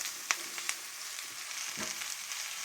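Garlic frying in a pan for a mushroom cream sauce, a soft steady sizzle with a couple of faint clinks near the start, fairly quiet and with no talking.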